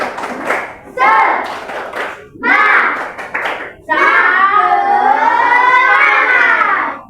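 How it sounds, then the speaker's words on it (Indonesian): Children perform a rhythmic spirit clap in a classroom lesson, with quick bursts of hand claps alternating with loud, sung chanting from their voices. "Oke, tepuk semangat."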